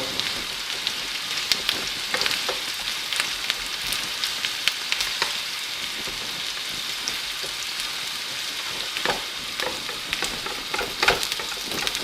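Chopped onion and carrot fry in a pan with a loud, dense sizzle and crackle, punctuated by scattered pops and stirring scrapes, close and continuous without talk.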